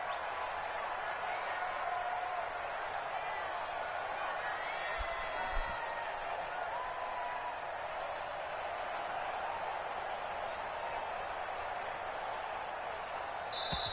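A stadium crowd at a Buffalo Bills football game makes a steady, distant roar with faint cheers and whoops throughout, while a voice talks over it.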